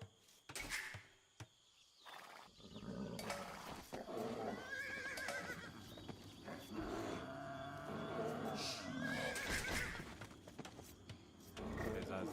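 Horses in a video game neigh and whinny, shrill, wavering calls that rise over a busy background of hoofbeats and game noise, fairly quiet overall.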